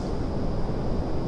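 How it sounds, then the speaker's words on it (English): Steady broadband roar of a rocket climbing through the sound barrier in the game Kerbal Space Program, a constant rushing wash with a faint high whine, loud and unbroken, with no voices. "That noise you hear, by the way, as we're going up is a sonic boom"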